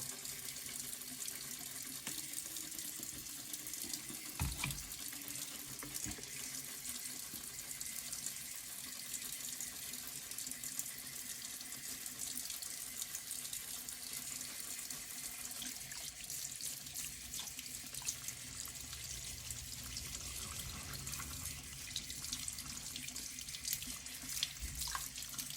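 Faucet running warm water into a sink to wash lab tools, a continuous splashing rush with a few brief clunks and shifts in the flow as the basin fills, with no talking.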